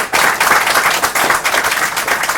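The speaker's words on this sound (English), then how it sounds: "Everybody, if you would, please, with a round of applause for Dr. Rice." Steady applause from a crowd, dense clapping that continues throughout at an even, fairly loud level.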